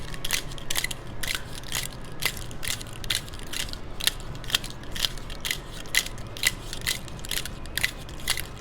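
A cocktail shaker full of ice shaken hard for a home mixology drink, giving a steady, rapid rattling rhythm of icy clacks throughout, close up and with no talking.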